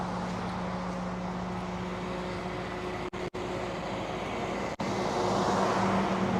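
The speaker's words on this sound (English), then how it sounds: "while the PTO is running and the truck is noisy" Tow truck idling with its PTO engaged, a steady loud low engine drone with a constant hum, briefly cut out twice near the middle, no talking.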